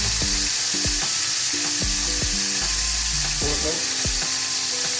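Something browning in a frying pan before garlic goes in gives a constant sizzle throughout. Repeated knocks and scraping sounds overlap it, and one brief spoken word breaks in.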